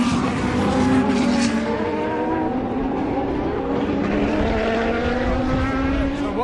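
Petrol-engined race cars at Le Mans pass by in a continuous loud roar. Engine tones sweep upward as several cars go past, and a voice speaks faintly underneath.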